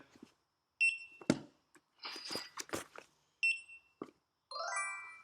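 Short electronic beeps from a handheld scanner, three distinct tones with gaps, mixed with rustling and handling noises, then a final warbling multi-tone chirp.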